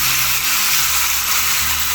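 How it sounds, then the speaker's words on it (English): Pork sizzles and crackles steadily in hot sesame oil in a pan, a dense, bright hiss with no pauses. "While the meat is frying out"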